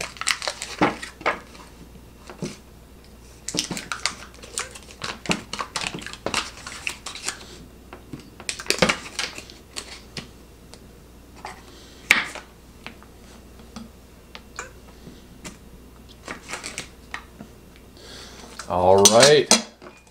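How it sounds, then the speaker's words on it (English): A knife spreads butter on a freshly made waffle from Fisher Fair Scone and Shortcake mix, giving repeated close scraping and clinking strokes in short bursts, with a louder burst of scraping near the end. "And I'm just going to put some butter on it."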